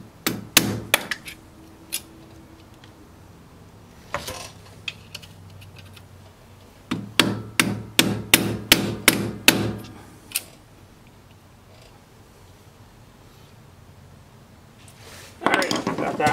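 A pin being hammered home on a TCM FG25N2S forklift front hub: two clusters of sharp metallic strikes, a few blows then a fast run of about eight close hits, with gaps and a louder noise at the end.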